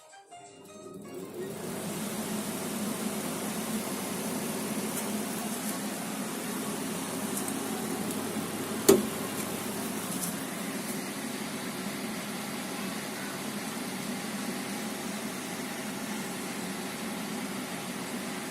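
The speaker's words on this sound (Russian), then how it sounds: "Вентиляторы включаются вот так. Гудят, правда," Fans of a homemade bullerjan wood-burning stove hum loudly and steadily after starting up, a broadband whirring drone that holds for the rest of the stretch with one brief click midway.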